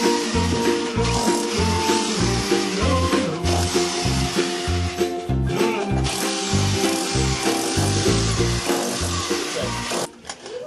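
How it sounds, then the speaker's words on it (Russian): A rotary hammer fitted with a flat chisel bit chips away to widen a hole in a concrete wall for an extractor fan. Loud, rapid pulsing blows ride over a motor whine and run almost continuously before cutting off near the end. "я воспользуюсь перфоратором с насадкой лопаткой плоской"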